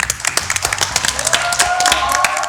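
Dense applause from a crowd in a theatre, steady rapid clapping filling the space, with a faint tone rising underneath.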